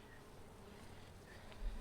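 Honey bees swarming on wonky comb give a faint, steady buzzing drone, quiet and continuous, with a soft bump at the end.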